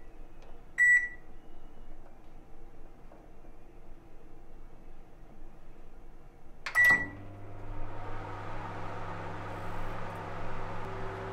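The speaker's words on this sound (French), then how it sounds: "Il est maintenant temps de passer à la cuisson, au micro-ondes bien sûr." A microwave oven cooking a mug pizza: a short beep, a quiet pause, then another beep and the door or start clunk as the oven begins a steady close hum with fan whir.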